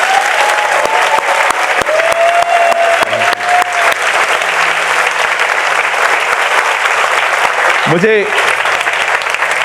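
A church congregation at a Christian preaching service claps loudly for the Lord in a dense, continuous burst of applause, with voices calling out over the clapping.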